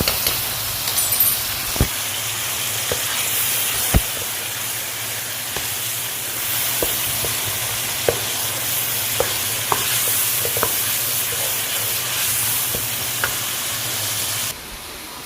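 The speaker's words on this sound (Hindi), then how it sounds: "इसके अंदर मैं शामिल कर दूँगी अदरक और लहसुन का पेस्ट" Ginger garlic paste fries in a pan with a steady, loud sizzling hiss throughout, punctuated by occasional sharp clicks and scrapes of stirring, and no talk.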